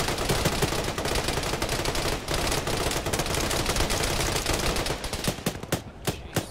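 Dense, continuous automatic gunfire in a ShackTac military game session, many overlapping shots forming an unbroken loud barrage that thins into separate sharp cracks near the end.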